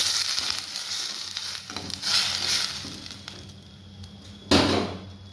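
Fulori frying in a pan as they are stirred, an ongoing crackling sizzle with soft scraping and a sharp clatter near the end, close and alone.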